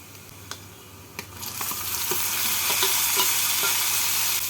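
Chopped tomatoes frying with browned onions in a pan for prawn vindaloo, with a steady sizzle that swells louder partway through and a few sharp spoon-against-pan clacks as the mixture is stirred.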